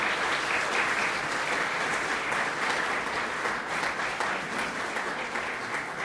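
Sustained audience applause at a speech event, dense continuous clapping at an even level from start to finish, with no audible talk over it.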